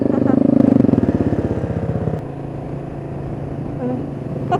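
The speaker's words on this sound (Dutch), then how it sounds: "Het was een scooter." A scooter drives past close by, its buzzing engine loud at first and then fading to a lower rumble.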